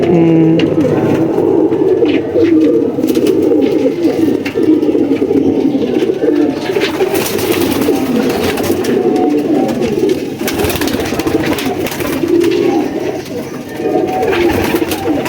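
Pigeons cooing in low, throaty bursts over a dense, continuous wash of ambient noise, with many birds close by.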